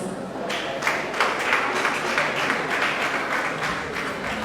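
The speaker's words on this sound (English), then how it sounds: "Please a round of applause for this meeting." An audience at a school talk show on the Rhesus factor gives a round of applause, with moderately loud, steady clapping lasting several seconds.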